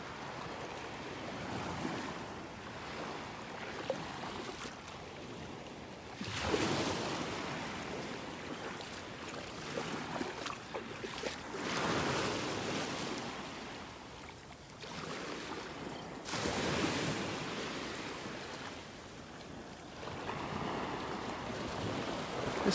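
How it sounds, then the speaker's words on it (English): Small ocean waves breaking along the beach shore at North Naples, Florida, rising and falling in soft repeated washes under steady wind noise. "Just some little tiny waves there breaking along the shore."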